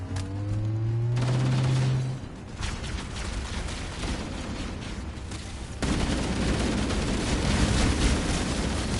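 Sustained rapid gunfire from a Halo game battle, a dense continuous barrage that runs the whole stretch and grows louder in the second half, with a low droning tone at the start.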